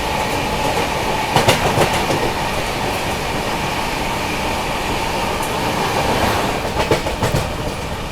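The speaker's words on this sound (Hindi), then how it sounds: "मालगाड़ी तो ये जो है ना फ्रेट ट्रेन काफी ज्यादा स्लो है" A slow freight train rolls along a parallel track, its steady rumble and broadband rail noise continuous throughout, with faint rhythmic clatter of wagons passing close by.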